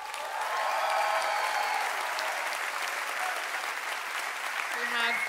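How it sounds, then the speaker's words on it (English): A live concert crowd in Hamburg applauds loudly and steadily for about five seconds. The clapping is dense and continuous, a few cheers rise over it, and a voice begins speaking faintly near the end. "I can ask you to keep your applause going"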